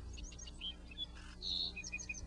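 Sparrows chirp in a natural setting, several short high tweets scattered over a couple of seconds against a quiet background, fairly faint and distant.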